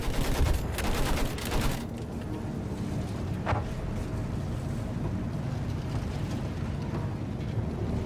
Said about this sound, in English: Use the MG, sweep the ground